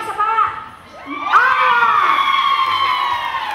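A crowd of voices at an Ilocano traditional festival cheers and shouts, rising into a loud sustained collective yell after a brief dip, close and energetic.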